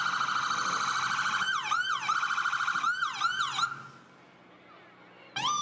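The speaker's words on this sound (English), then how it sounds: "you can hear the sirens and see the big light show rolling in here" Emergency vehicle sirens from the Richmond Safety Department at a nighttime Christmas parade in Richmond, Kentucky, wailing loud and close with repeated rising and falling sweeps, then cutting out briefly before a siren bursts back in.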